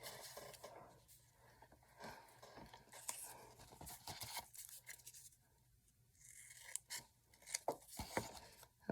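Scissors snip off the corner of a paper craft tag with a few short, close cutting and rustling sounds, faint and dry, in a quiet room.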